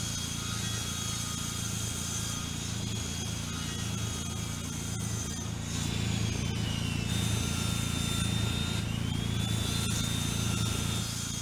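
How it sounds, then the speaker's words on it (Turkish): Two petrol chainsaws idle and run in the farm video game Ranch Simulator, giving a continuous buzzing drone with a steady motor whine that shifts in pitch partway through. The sound stays at an even, moderate level throughout. "İki tane testere var. Benzinleri bitiyor."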